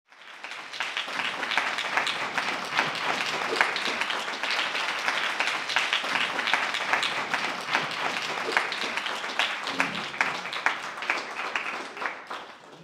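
Sustained audience applause fills a TV studio at a steady, dense level for more than twelve seconds, with no talk over it.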